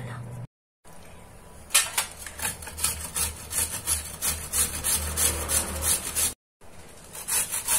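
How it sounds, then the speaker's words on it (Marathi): Chillies, ginger, carrot and cucumber are finely grated by hand, making repeated rasping strokes in a steady rhythm, close and fairly loud, with two brief silent gaps. "हे सगळं आपण अशा प्रकारे बारीक किसून घेतलेलं आहे"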